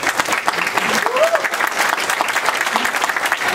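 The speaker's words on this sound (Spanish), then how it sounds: "eso merece primero un aplauso" An audience at a Startup Grind Lima startup event applauds for Jaime Sotomayor of Arcturus Bio Cloud: steady, dense clapping that holds at full strength for the whole stretch, with a few voices mixed into the crowd.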